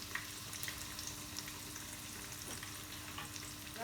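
Breaded homemade KFC-style chicken fries in hot oil, giving a steady, close sizzle with dense crackling and popping throughout, with no talking.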